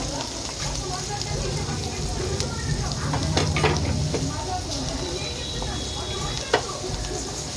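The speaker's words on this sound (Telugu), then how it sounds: "ఆయిల్ వేడెక్కింది. పచ్చిమిర్చి, కరివేపాకు, ఉల్లిపాయ వేసుకోవాలి." Green chilies, curry leaves and onion sizzle and crackle steadily in hot oil, a close, continuous frying hiss with scattered pops and stirring clatter, while someone speaks over it.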